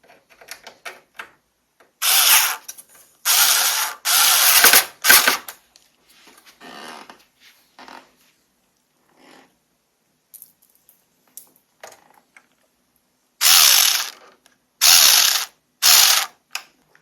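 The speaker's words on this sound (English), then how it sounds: "Now we can use an electric screwdriver." An electric screwdriver drives screws into a Korg Triton Le keyboard, with a series of short, loud whirring bursts, each a second or so long, separated by silences and clustered in two groups, close up.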